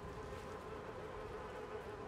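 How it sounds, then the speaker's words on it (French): Flies buzzing in Little Nightmares II, a steady, continuous close drone with a fine wavering hum, alone and unbroken throughout. "Des mouches."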